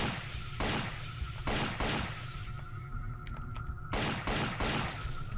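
A machine pistol fires in the video game Indiana Jones and the Infernal Machine, loud repeated bursts of rapid gunfire with short gaps between them over a constant game ambience.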